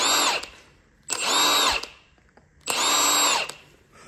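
Power impact tool removing car wheel lug nuts: three loud bursts of rattling whirr, each about half a second to a second long, separated by brief pauses, close by with no talking.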